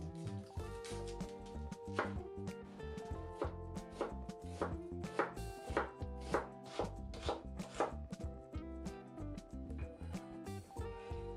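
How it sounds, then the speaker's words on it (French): An onion being sliced with a knife on a cutting board, a steady run of crisp, close chopping strokes at an even rhythm with no talking. "Émincer l'oignon."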